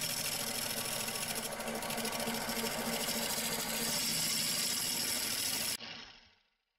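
A wood lathe spins at 950 RPM turning a carrot wood bowl, giving a steady, fairly quiet mechanical whir and hum that runs evenly before cutting off abruptly and fading out.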